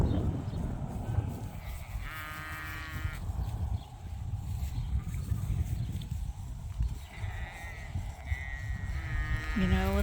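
Sheep bleat several times in wavering, buzzy calls over a steady low outdoor rumble in a pasture, with a person speaking softly between them.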